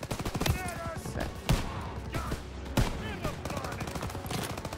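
Rapid bursts of gunfire ring out in the World War II shooter game Call of Duty: WWII, with dense repeated shots and several louder cracks, close and steady across the whole stretch, with faint voices underneath.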